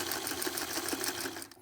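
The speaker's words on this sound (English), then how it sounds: "And now we're ready to sew. I'm sewing on a 1960 something featherweight," A 1960s Singer Featherweight sewing machine stitching binding runs in a quiet, even, fast mechanical whir with a steady rhythmic clatter, heard alone, then it briefly stops.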